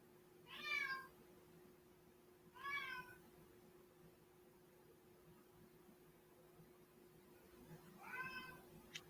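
A domestic cat meows three times at a distance, with spaced, drawn-out calls over a steady low hum and faint background hiss.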